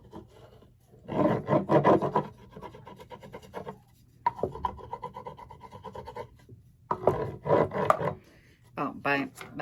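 Wax crayon scribbled over dried paint on a surface, giving bursts of rough rasping strokes in quick rhythmic runs with short pauses between, fairly close and moderately loud.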